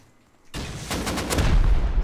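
An AK rifle fires in the survival game Rust, a loud burst of rapid shots breaking in after a brief quiet moment and building in intensity.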